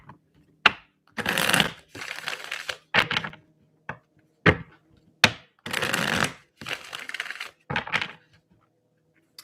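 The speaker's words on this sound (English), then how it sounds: "I will pull a card for Christine." Tarot cards are shuffled and handled in repeated short bursts of riffling and slapping, close up and crisp, separated by brief pauses.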